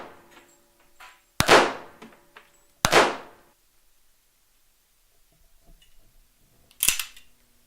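A 1918 Colt 1911 pistol firing .230-grain rounds on a range: three sharp, loud shots spaced apart, each with a short ringing decay, and quiet gaps between.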